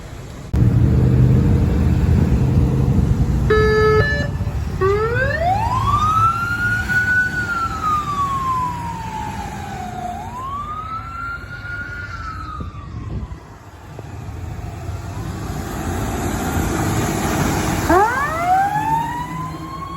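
Siren of a Detroit Fire/EMS engine, Engine 53, responding to a priority medical call: loud rising and falling wails sweep up and down repeatedly for the whole stretch, with a brief horn-like blast early on, over steady engine rumble.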